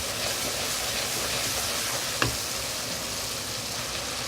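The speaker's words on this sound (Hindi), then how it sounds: "मसालों को हम 3 से 4 मिनट अच्छी तरीके से भून लेंगे" Ground spices with a teaspoon of dried fenugreek leaves (kasuri methi) roast in a hot pan for a white lobia dish, giving a steady, close sizzle and crackle that runs without a break, with one brief stir or scrape near the middle.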